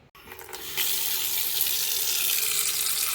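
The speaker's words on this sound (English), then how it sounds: "I'm filling this up with my hot water tap" A hot water tap fills a pot at a kitchen sink: a brief clatter, then water gushes in steadily and loudly, holding a constant rushing hiss until the end, with no voices.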